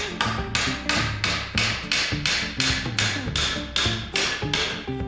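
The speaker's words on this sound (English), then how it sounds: "So I'm going to use a slightly domed side and just tap this down." Domed face of a hammer tapping sheet metal in repoussé work, with about eleven sharp, evenly spaced ringing strikes, loud and close with no voices.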